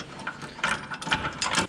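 A ratchet wrench works bolts loose on a corn planter, giving quick bursts of metallic clicking in short uneven strokes, fairly close and with no talking.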